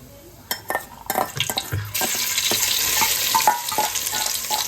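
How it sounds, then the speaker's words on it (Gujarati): Cumin seeds dropped into hot oil for tempering, with a few clinks and stirring sounds before a sudden loud crackling sizzle breaks out and continues steadily, with no talking. "આ જીરું નાખ્યું જીરાથી વઘાર કરવાનો છે"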